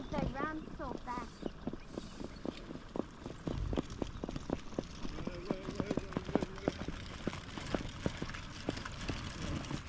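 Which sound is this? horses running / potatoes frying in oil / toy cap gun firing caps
horses running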